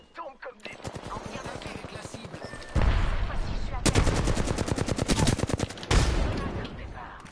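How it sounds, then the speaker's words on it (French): Rapid gunfire exchange in a video game, dense bursts of automatic shots crackling in quick rhythmic volleys, growing louder midway with several sharp heavy blasts, close and loud. "On se tire dessus."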